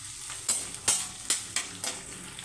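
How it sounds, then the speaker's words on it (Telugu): Small onions frying for a curry, with a continuous sizzle broken by about five regular, evenly spaced stirring scrapes, close by. "ఎల్లిపాయ చిన్న ఉల్లిపాయ బాగా వేగాలి."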